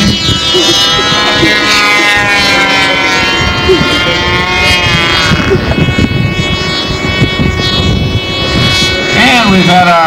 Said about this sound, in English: This gentleman's going to put on a little show with a little helicopter right here.